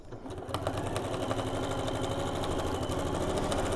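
Close and steady, a sewing machine stitches quilt block seams with a continuous rapid chattering rhythm that holds at even loudness throughout.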